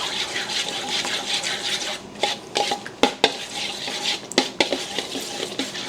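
Leftover New Year's fruits and cream are stirred and mixed in a bowl with a utensil, giving a close, continuous wet sloshing broken by several sharp clinks and scrapes against the bowl, with no voices.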